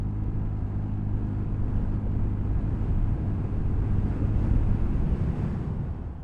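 TVS Ntorq 150 maxi-scooter speeding up on a road during a panic-braking test, a steady low engine drone with heavy wind buffeting on the microphone throughout, loud and close.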